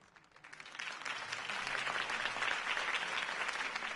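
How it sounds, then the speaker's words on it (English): Crowd applause after a political campaign speech in the Batman Telltale Series game, a steady dense wash of clapping that swells in and holds, with no voices. "If only Mr. Wayne, my campaign's largest backer, could have heard that applause"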